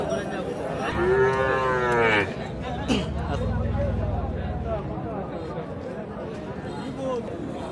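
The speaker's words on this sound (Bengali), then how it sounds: "এদিকে কোনো বড় গরু নাই" Cattle at a weekly livestock market in Dapunia, Mymensingh, moo loudly nearby, with a long drawn-out bellow early on over a busy crowd babble and people talking.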